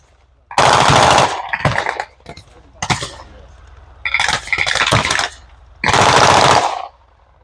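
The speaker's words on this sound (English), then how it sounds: "They're attacking the German position now, laying fire down." Machine gun fire at a tank festival battle reenactment, with sustained loud bursts of automatic fire in three main volleys and shorter sharp shots between them.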